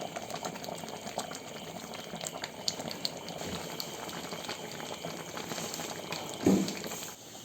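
Chicken curry simmers in a pot, giving a faint, continuous bubbling with small pops close by and a brief louder clink near the end.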